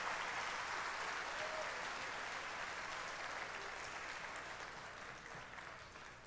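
A church congregation applauds during a sermon, a broad wash of steady clapping at moderate distance that fades slightly toward the end, with no voice over it.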